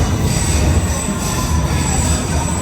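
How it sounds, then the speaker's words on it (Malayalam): A loud, close train rolls into a London station with a constant high-pitched squeal of wheels over a heavy rumbling roar, with no voices. "നമ്മുടെ ട്രെയിനാണ് അത്"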